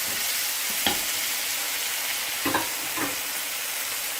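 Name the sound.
sautéing tomatoes with onions and peppers in a pan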